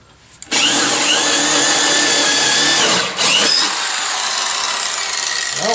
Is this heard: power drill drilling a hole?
yes